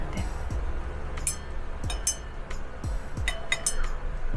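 A glass stirring rod taps and clinks against a glass container while mixing perfume, a run of small bright chinks at irregular intervals, close and fairly quiet, with no talking.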